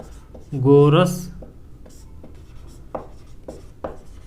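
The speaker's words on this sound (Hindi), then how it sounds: "तो यहाँ पर हम लिख सकते हैं पाइथागोरस" Marker or chalk scratching out a Pythagorean theorem step on a board during a Hindi-medium trigonometry lesson, with a few soft, separate strokes following a brief voiced sound near the start.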